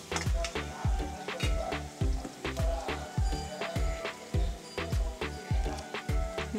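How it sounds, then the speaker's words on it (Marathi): Onion browns in a pan with green chilies, a close crackling sizzle punctuated by repeated thuds and scrapes of stirring at a steady pace. "नंतर त्यामध्ये एक कांदा छान परतून घ्यायचा आहे लालसर कलर येईपर्यंत"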